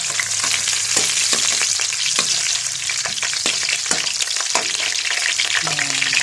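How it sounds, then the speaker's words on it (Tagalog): Garlic sautéing in a hot oiled pan as the first step of a homemade biryani, a steady loud sizzle with repeated sharp crackles and stirring scrapes throughout, no talking. "magigisa na po tayo. Ayan, ito po yung bawang"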